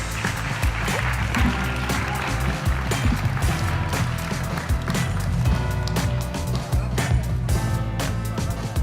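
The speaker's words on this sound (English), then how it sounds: "Thank you for clapping" Audience applause at a European Mobility Week awards ceremony, steady dense clapping that fills the room throughout, with people talking over it.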